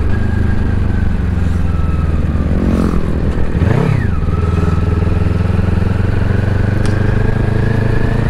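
Motorcycle engine droning close and loud without a break on a ride through town streets, with a passing vehicle sweeping by near the middle amid faint clatter.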